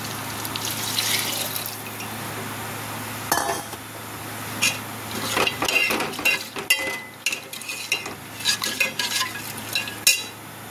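A cooking pot being stirred after water is poured in, with steady watery swishing and scraping of a utensil against the pot, up close and alone, the strokes growing sharper and more rhythmic toward the end.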